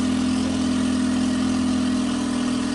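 A Triton 216 Fishunter boat's outboard engine runs steadily at reduced RPM, a constant close, loud drone with a strong low hum and no voices.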